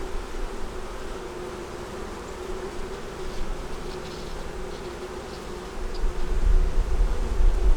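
Agitated honeybees buzz loudly and continuously in an open hive, a thick close drone with some rumbling handling noise near the end.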